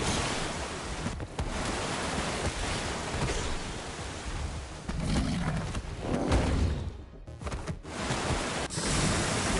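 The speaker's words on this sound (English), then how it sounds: "Waterfalls!" Waterfall in the video game Minecraft, a steady, dense rushing of water that stays loud and continuous with small surges, with no talk over it.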